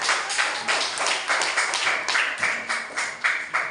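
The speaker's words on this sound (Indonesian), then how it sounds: "beri tepuk tangan kepada kelompok rumah" Children in a classroom clap for a group, a steady patter of many hands applauding for a few seconds, fairly near.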